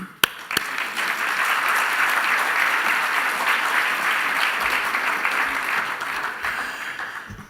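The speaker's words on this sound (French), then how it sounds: "On les remercie, on les applaudit." Sustained audience applause fills a convention hall at a national auctioneers' gathering, steady and dense throughout after a couple of sharp opening claps.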